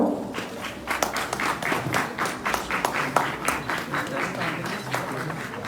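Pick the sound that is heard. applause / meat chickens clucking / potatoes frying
applause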